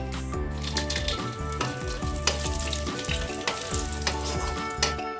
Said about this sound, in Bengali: ঘি দিয়ে আমাদের কাজুটা আমি ভেজে নেব